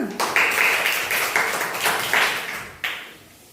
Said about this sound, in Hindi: तो ताली तो बजती है ना